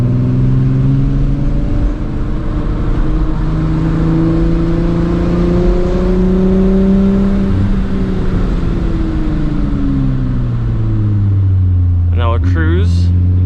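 A 1990s Volkswagen MK3 Jetta fitted with upgraded G60 brake calipers and 280mm rotors drives along a road, its engine droning and shifting pitch as it speeds up and slows, with steady road and wind noise throughout.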